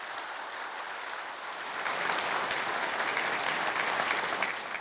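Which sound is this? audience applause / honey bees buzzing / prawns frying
audience applause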